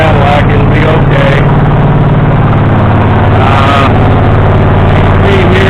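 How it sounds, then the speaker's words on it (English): A Predator engine fitted to a Cub Cadet lawn mower runs through a reused old muffler, giving a loud, steady, close-up drone that holds without a break throughout. "we reused the old muffler off the other engine, so yeah, the thing's kind of loud, but it's a lawnmower"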